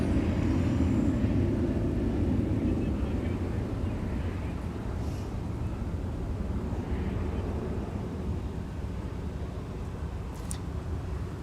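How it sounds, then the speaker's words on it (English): A Boeing 717 (MD-95) jet departs from Minneapolis–St. Paul airport, giving a steady, broad roar heard from a distance that fades slightly over time, with faint wind noise. "There's a departing Boeing 717. AKA the MD-95."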